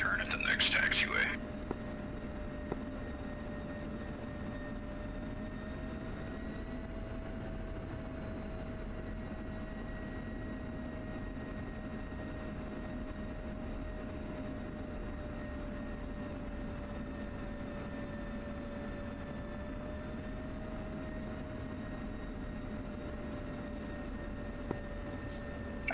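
Aircraft taxiing in a flight-simulation video game, a steady droning engine hum with faint whining tones holding level for the whole stretch, moderately quiet, with a brief clatter at the start.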